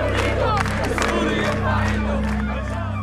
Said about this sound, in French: ces manifestants réclament pacifiquement le départ de Bachar el-Assad